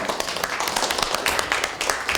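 Applause at a joint meeting of a political party's supreme council and national committee chairs, during a flower presentation, a brief, steady patter of many hands clapping close by.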